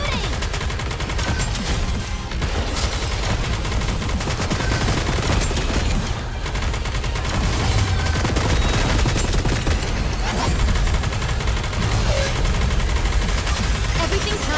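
Dense, nonstop gunfire in the game Nikke, loud overlapping rapid shots and bursts filling the whole stretch, with game voices mixed underneath.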